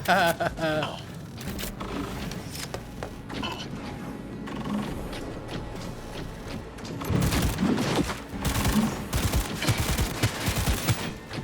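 Gunfire in Cyberpunk 2077: scattered bursts of shots and mechanical clatter through a busy game mix, growing denser and louder toward the end, with someone talking over it.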